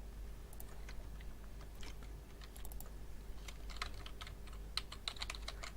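Quiet clicking keystrokes on a computer keyboard come in irregular bursts over a low steady hum, growing busier and a little sharper toward the end.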